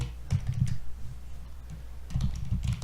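Computer keyboard typing in short bursts of clicking keystrokes, a cluster early on and another toward the end with a quiet pause between, close and moderately loud with no talking.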